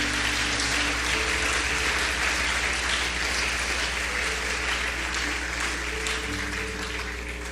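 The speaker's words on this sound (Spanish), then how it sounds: "Un aplauso para el Señor." A church congregation applauding during a Spanish-language worship service, a loud, dense and sustained wash of clapping that fills the space throughout.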